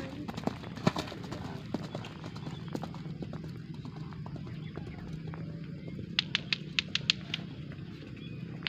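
Two horses' hooves clip-clop on arrival for morning training ahead of a traditional Gayo horse race event, with scattered hoof strikes and a brisk run of clear clops near the end, over quiet outdoor ambience.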